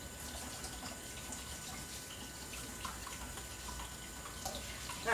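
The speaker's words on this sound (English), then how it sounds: "Now first what I want to do is rinse all these veggies off." Water runs from a kitchen tap as fresh vegetables such as radishes and broccoli are rinsed, a steady soft hiss and splash with faint handling sounds, fairly quiet and continuous.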